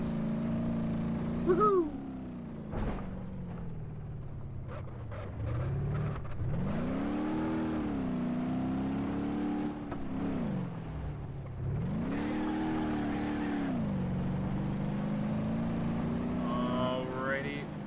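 An Ibishu Pessima DX, a 1996-2001 sedan in BeamNG.Drive, runs its engine through repeated rising revs as it accelerates and shifts gears, with a steady mid-level drone. A person cheers once near the start.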